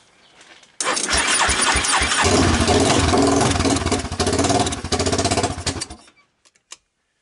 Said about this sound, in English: Let me set up the camera and see if this thing wants to start.